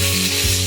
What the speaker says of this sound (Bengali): আমি আস্তে আস্তে মাছগুলো সব ভেজে নেব